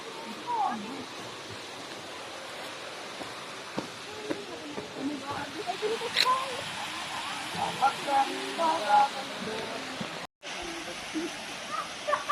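A misty waterfall in Batangas gives a soft, steady rushing hiss. Voices chatter over it, and the sound cuts out briefly near the end.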